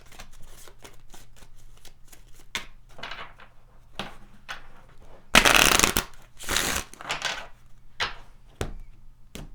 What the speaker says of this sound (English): Let's go ahead and pull some additional cards here.